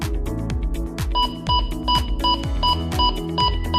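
A Vigor Long Range Gold metal detector sounds a repeating electronic alarm, rapid regular beeps and tones over a pulsing low throb, steady and close throughout.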